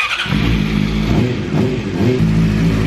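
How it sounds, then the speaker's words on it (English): A motorcycle engine runs steadily while warming up, a loud, close, rumbling idle with small fluctuations in pitch and no talking. "I need to warm up the bike."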